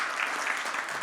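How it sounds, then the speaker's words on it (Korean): An audience at a Korean talk concert breaks into dense, loud applause, a continuous wash of clapping with no pauses. "마지막 큰 성원의 박수 한번 부탁드리겠습니다"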